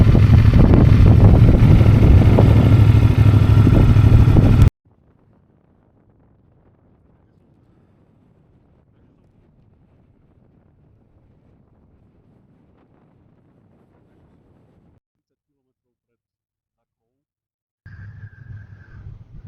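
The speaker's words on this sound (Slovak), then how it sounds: "a fúka tu silný vietor." Strong wind roars loudly against the microphone on an open desert plain in Western Sahara for a few seconds, then cuts to near silence before a low rumble returns.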